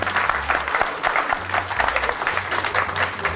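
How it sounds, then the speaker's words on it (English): A crowd at a 50th birthday celebration applauding steadily, a dense wash of clapping that holds at an even level throughout with no talking over it. "Let's clap."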